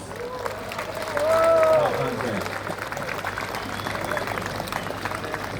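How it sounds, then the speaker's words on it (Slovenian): Applause from an outdoor audience for a partisan choir at a May Day gathering on Rožnik, a steady broad wash of clapping that swells briefly and then holds at a moderate level. "Partizanski pevski zbor, dajmo še en aplavz."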